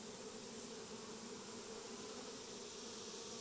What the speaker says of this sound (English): You can hear the bees when you smoke them.